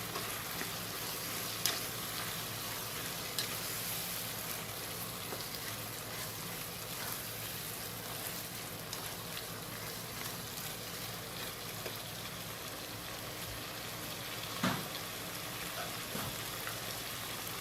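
Chicken frying with onions, garlic and spices in a pan, a constant soft crackling sizzle like light rain, even and fairly faint throughout with a few small clicks, no voices.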